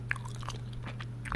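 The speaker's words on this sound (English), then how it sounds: "And I'm chewing two pieces of bubble gum right now." Close, quiet mouth sounds of two pieces of cotton candy flavored bubble gum being chewed, a few soft wet smacks and clicks over a steady low hum, no talking.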